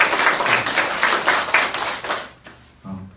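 An audience at a self-help seminar applauds to welcome a guest, a brisk rhythmic burst of many clapping hands in a room that fades out after about two and a half seconds, followed by a brief low murmur.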